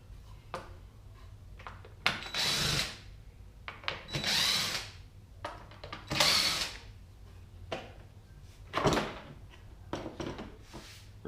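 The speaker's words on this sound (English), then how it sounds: "So we're going to start off by removing some screws here." A power drill backs screws out of a wooden cutting board in a woodworking shop, several short whirring bursts of a few seconds each separated by pauses, close and moderately loud.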